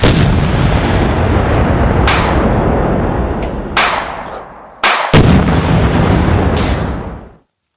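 Heavy gunfire and explosive booms in a World War 1 video game come as long roaring bursts broken by brief gaps, loud and close, ending abruptly in silence, with no speech.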